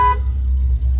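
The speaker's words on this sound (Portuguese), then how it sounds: "Vamos tocar a buzina dela." A brief loud horn toot from a 1995 Dodge Ram 2500 pickup at the start, followed by a heavy low rumble of its idling engine.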